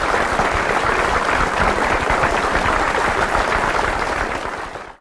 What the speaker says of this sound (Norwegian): Når gjestene så egget, begynte alle å juble.